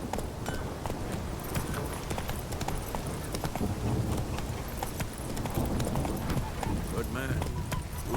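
The horse Roach trotting in The Witcher 3, rapid rhythmic hoofbeats with game ambience and voices talking over them.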